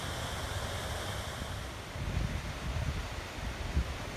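Water tumbling over an old canal spillway that once powered a grain mill, a steady broadband rushing wash heard outdoors with some wind buffeting.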